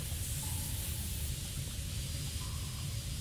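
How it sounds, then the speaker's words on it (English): Steam hisses from a pipe in the video game Lethe, a loud, steady broadband rush that runs unbroken for the whole stretch with no voices over it. "Steam isn't stopping."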